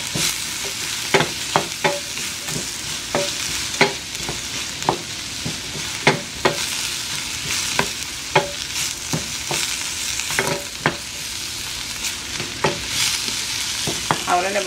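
Collard greens sizzle and fry in a pan while a utensil stirs them, giving a constant crackle with sharp, regular scraping strokes roughly every second, close and clear with no talking.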